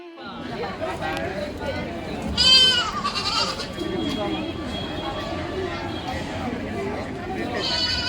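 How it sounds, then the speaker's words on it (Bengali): Goat bleating at Kamakhya Temple in Guwahati, a goat being led for sacrifice; several wavering bleats stand out near the middle, over a busy crowd with people talking throughout. "দেখো ছাগল নিয়ে যাচ্ছে বলি দেওয়ার জন্য"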